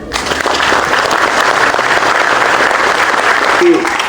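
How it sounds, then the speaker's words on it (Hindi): An audience at an Ol Chiki script centenary commemoration in New Delhi applauds loudly and continuously, a dense, sustained clatter of many hands with a voice briefly surfacing near the end. "आप लोग थोड़ी देर तक तालियां बजाएं"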